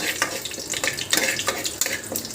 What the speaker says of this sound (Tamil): இது எல்லாத்தையும் போட்டு வறுத்துக்கோங்க.